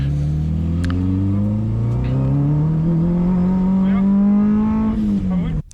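A car engine drones steadily as the car drives slowly around a cone on a Toruń race track, its pitch rising gradually then dropping at the end, with a voice talking over it.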